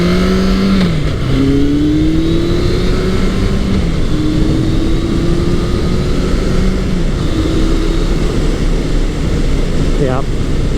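A retro superbike motorcycle engine, either a Honda CB1100 or a Kawasaki ZRX1100, pulls hard and climbs in pitch through gear changes, loud and constant close by with wind noise, while a rider talks over it.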